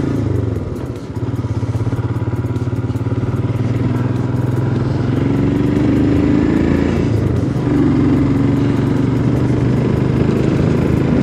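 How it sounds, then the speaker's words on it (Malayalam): A motorcycle rides steadily along a mountain road of full hairpin bends on the Nilambur–Bandipur–Mysore route, its engine droning loud and close throughout with clattering wind and road noise and no talk. "നല്ല രസമാണ് ഇതിൽ ഇങ്ങനെ ബൈക്ക് ഓടിക്കാനായിട്ട്."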